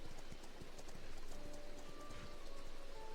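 Horse hooves trotting at a normal basic mount speed in the fantasy MMORPG Astellia Online, a steady clip-clop rhythm close by, fairly quiet, with no talking.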